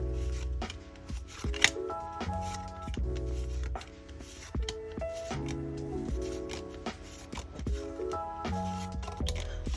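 A stack of paper task cards is handled, with light rustles and taps over steady background music.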